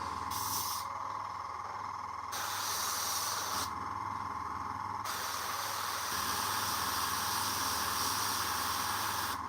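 An airbrush sprays paint onto a Warhammer miniature, giving a steady close hiss that swells and drops as the spray is started and stopped in several bursts.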